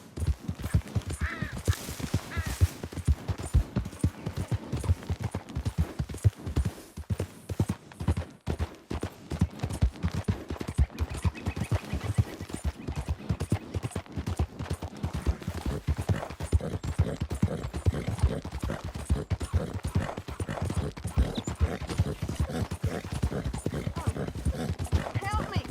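Hooves gallop at a steady, fast clip-clop in a Red Dead Redemption 2 game scene, loud and continuous, with a voice speaking over the riding and crow-like caws in the background.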